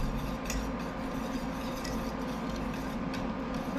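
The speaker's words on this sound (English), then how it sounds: "I'm going to continue to whisk." Wire whisk scraping steadily around a pot of banana cream pudding, a continuous close rasping stir with faint clinks, no talking.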